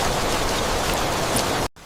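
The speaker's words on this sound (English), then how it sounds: "The rain fades away." Heavy rain pours on a hidden treehouse, a dense, steady hiss of drops close by that cuts off abruptly just before the end.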